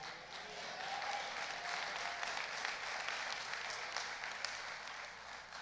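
A church congregation applauds steadily, a dense wash of clapping hands that holds at an even level throughout, heard from a slight distance.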